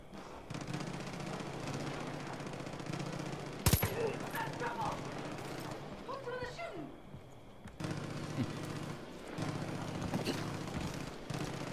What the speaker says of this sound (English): they got some serious gunfire going on over here